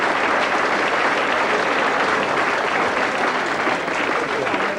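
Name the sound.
audience applause in a comedy club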